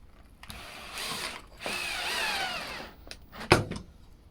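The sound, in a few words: power drill driving small screws into hospital bed side rail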